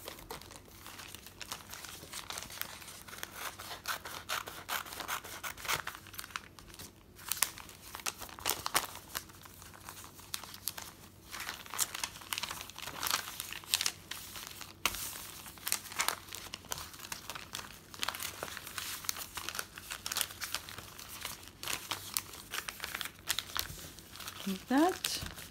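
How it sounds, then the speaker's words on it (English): A Chic Sparrow journal cover being cut in half gives a steady stream of close crinkling and crackling with scattered sharper snips and rustles, quiet and continuous throughout. "Let's cut this in half."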